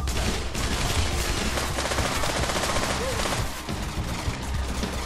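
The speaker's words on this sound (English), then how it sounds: "Yo, this PP90 kicks, bro." A PP90 submachine gun firing in a VR gun game, loud rapid bursts of automatic shots crackling nearly nonstop, with brief faint voice sounds mixed in.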